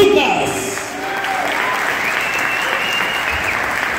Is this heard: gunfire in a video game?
no